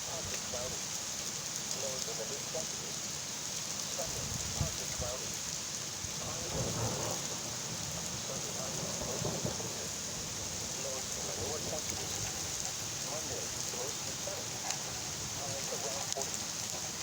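An afternoon thunderstorm in Van Wert, Ohio, brings heavy rain and pea-sized hail drumming on surfaces, with deep rumbles of thunder rolling through and a few faint voices underneath.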